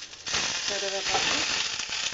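Curry leaves and moringa leaves sizzle lightly in hot oil in a pan, a steady close crackling hiss that holds throughout the short stretch.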